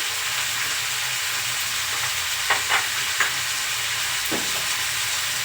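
Cumin seeds and garlic fry in hot oil in a pan, giving a steady loud sizzle with a few brief stirring scrapes and clicks, no talking.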